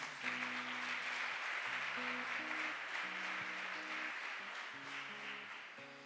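A church congregation applauds during a Thursday service, a broad steady clapping wash held under sustained organ or keyboard chords for about six seconds, fading slightly at the end.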